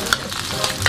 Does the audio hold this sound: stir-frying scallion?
yes